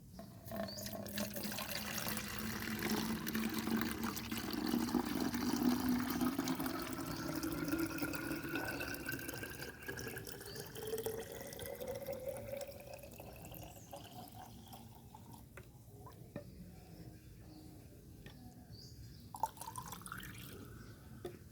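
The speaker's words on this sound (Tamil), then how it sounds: "ஒரு லிட்டர் தண்ணி கலந்து ஊற்ற போகிறேன்" Water pours steadily into a spray bottle, its pitch rising as it fills, then tapers off into a few faint drips.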